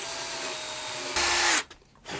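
A power drill bores out an old 10 mm wooden dowel pin, starting with a small hole in its centre; a steady whirring grind runs close and loud, rising briefly before the motor spins down and stops.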